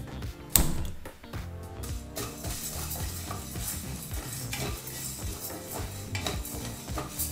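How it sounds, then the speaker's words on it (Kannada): Sago pearls roast in ghee inside a pressure cooker over a medium flame, a steady close sizzle with repeated scraping and stirring of a ladle against the metal and an opening clank. "ಈಗಿಲ್ಲಿ 2ರಿಂದ 3 ನಿಮಿಷ ಸಬ್ಬಕ್ಕಿನ ತುಪ್ಪದಲ್ಲಿ ಮೀಡಿಯಂ ಫ್ಲೇಮಲ್ಲೇ ಹುರಿದಾಯಿತು"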